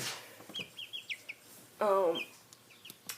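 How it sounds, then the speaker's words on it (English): High, thin chirps repeat in quick bursts, with a louder, lower cluck-like call in the middle; baby chicks peeping close by, no talking. "there's the chickens in there"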